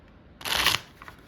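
A standard-size tarot deck being shuffled, one short crisp riffle of cards close by lasting about a third of a second, with a few faint taps after.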